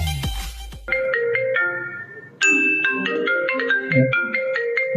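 Melodic electronic phone ringtone for an incoming call in a barber shop comedy skit, a repeating bright tune of stepped notes, loud and close, with no talk over it.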